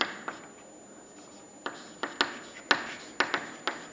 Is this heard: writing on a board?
yes